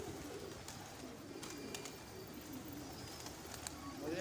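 Pigeons coo softly in a Karachi pigeon-keeping setting, with low repeated coos and scattered faint chirps over a steady outdoor background hum.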